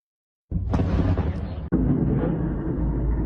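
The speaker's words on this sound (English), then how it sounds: "explosions ripping through the night sky around Ukraine's capital of Kyiv" Explosions in the night sky around Kyiv during a Russian military assault: after a brief silence, a deep booming roar erupts and rumbles, then a second sharp blast hits and the heavy rumble carries on.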